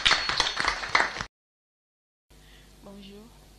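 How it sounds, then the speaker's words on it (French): Audience clapping at an award ceremony, a dense and fairly loud burst of applause that cuts off abruptly after about a second, followed by a short silence and then someone speaking over a quiet room. "Merci beaucoup et applaudissements pour lui."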